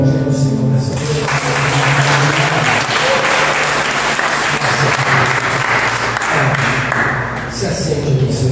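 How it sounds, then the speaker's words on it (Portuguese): A church congregation applauds during an evening worship service, a loud, sustained wash of many hands clapping with sustained tones underneath, fading back near the end. "Você pode aplaudir o Senhor nessa noite."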